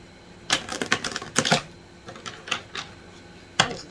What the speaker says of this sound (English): That was a strange shuffle